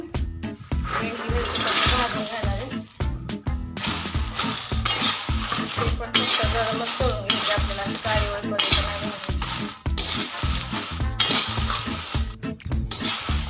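A spoon stirs ground spices in a little oil in a pan for homemade Solapuri kala masala, giving steady rhythmic scraping and clinking strokes over a soft sizzle, close and continuous.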